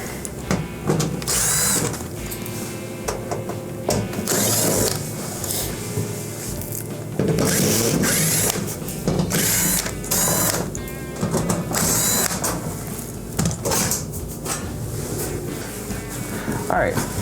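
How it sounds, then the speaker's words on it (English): Quarter-inch screws are driven out of the back cover of a Whirlpool oven with a power driver, giving repeated whirring bursts and clicks up close over a noisy background. "we're going to remove our back cover, and there's just a bunch of 1/4 inch screws to remove."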